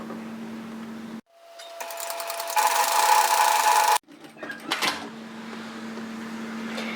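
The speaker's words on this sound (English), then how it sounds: "we're going to sew a seam across at 1 centimetre" A domestic sewing machine stitches a seam at 1 cm on a dress-pattern garment, starting with a short back-tack burst, then running steadily and close up for about three seconds before stopping, with faint handling after.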